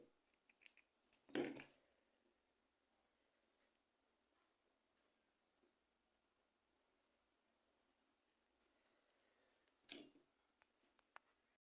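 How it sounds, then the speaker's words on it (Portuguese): Scissors snipping crochet yarn up close, two short crisp cuts several seconds apart with near silence and faint handling sounds between. "Agora eu vou cortar o meu fio, arrematar, e depois eu vou esconder."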